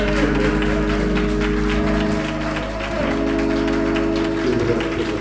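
Church congregation clapping in praise during a worship service, a broad wash of hand claps over sustained organ or keyboard chords, with some voices mixed in.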